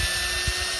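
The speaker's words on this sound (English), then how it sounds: "Well, I started drilling this out." A power drill bores out a heated and quenched grease fitting on an LT 70, giving a steady, loud, close-up grinding whine with no pauses.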